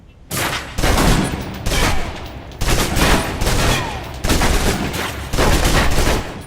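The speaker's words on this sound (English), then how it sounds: "Now, let's move on to the submachine gun. Now let's empty the clip." A submachine gun empties a full magazine in a video game, firing loud, close bursts of rapid automatic fire separated by brief pauses, with a steady rattle dominating throughout.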